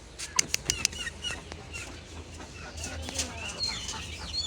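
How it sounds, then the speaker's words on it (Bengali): Chickens at a village home where hens and pigeons are kept, with a few short clucks near the start followed by softer scattered bird calls and flapping. A voice talks faintly underneath. "এই যে মুরগি আরো আছে এখানে"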